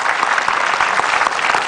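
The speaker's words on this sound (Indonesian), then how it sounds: "Tepuk tangan sekali lagi dulu buat Abah Rama." A studio audience breaks into loud, close applause, a dense steady burst of many clapping hands.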